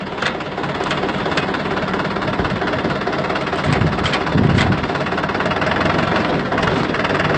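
A tractor engine runs steadily in low gear, a loud, close, constant mechanical drone with rhythmic knocking and a slight swell in rumble partway through, with no talk over it.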